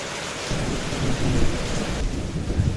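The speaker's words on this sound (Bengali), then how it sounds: "ঝুমঝুম বৃষ্টি, আর তার সাথে বাতাস বইছে।" Heavy rain pours in a dense, loud roar with wind, while low thunder rumbles through it, with no voices.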